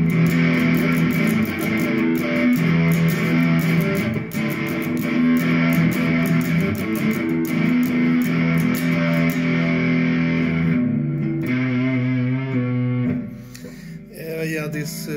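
Fame SE Series ST Special Natural electric guitar with high string action played through distortion, thick sustained chords strummed close and loud, then thinning into single ringing notes toward the end, no speech.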